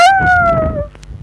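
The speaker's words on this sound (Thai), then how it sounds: "โอ้โหหมาตัวนั้นหอน" A dog howls in a video game, one loud, close, sustained wail that slowly falls in pitch and then fades into quieter game sounds, with no talk over it.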